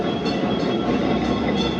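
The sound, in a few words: tram passing by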